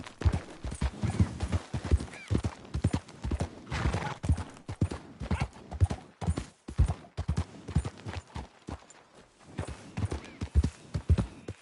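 Horse hooves gallop in Red Dead Redemption 2, a steady rapid clip-clop with occasional whinnies, close and loud throughout.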